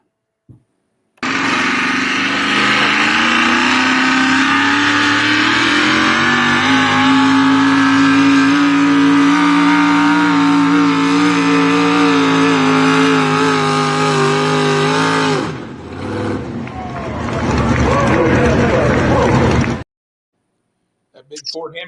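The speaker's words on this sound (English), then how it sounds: "That big Ford Hemi was zinging." A big Ford Hemi engine in a pulling truck at a truck-pull event roars loud and sustained for about fourteen seconds, pitch climbing as it revs. A short dip follows, then another heavy surge before it cuts off.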